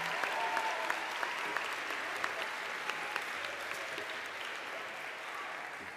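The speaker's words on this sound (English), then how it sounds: "could we give them a round of applause?" An audience claps steadily at a summer programs closing ceremony, a full room of applause with a few sharper individual claps, sustained at an even level.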